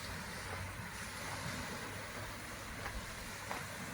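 Ocean waves wash against a rocky beach on a late summer walk, a constant broad wash of surf and wind at a moderate distance with no voices.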